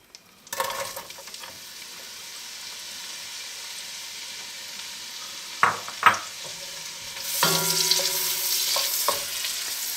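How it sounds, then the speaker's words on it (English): Onions sweating in melted butter inside a Dutch oven give a soft, steady sizzle with stirring scrapes and a few sharper clanks, the frying hiss growing louder toward the end. "we're going to add the onions and sweat those down for about 2 minutes"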